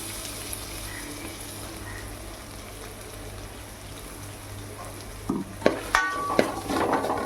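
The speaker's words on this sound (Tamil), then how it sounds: "இப்போ இந்த தக்காளி எடுத்து வச்சோம் இல்லையா அதையும் போட்டு வதக்கலாம்" Tomatoes with cumin and pepper sizzle quietly and steadily in a pan, then a few clinks and scrapes of stirring break in near the end.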